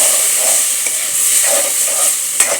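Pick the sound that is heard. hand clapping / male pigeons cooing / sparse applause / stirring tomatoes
stirring tomatoes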